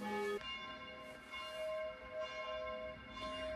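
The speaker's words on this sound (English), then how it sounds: "Those bells." Church bells ring at a distance outdoors, sustained tolling tones overlapping and fading, steady and fairly faint, with no speech.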